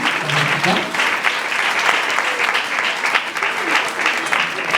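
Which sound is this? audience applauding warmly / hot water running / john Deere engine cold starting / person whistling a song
audience applauding warmly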